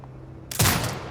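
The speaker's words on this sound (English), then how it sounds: "Exit binocular mode and command the turret to fire." A sentry turret opening fire in Sniper Ghost Warrior Contracts 2: after a quiet hum, a sudden loud burst of gunfire erupts and rings out, close and sharp, trailing off briefly.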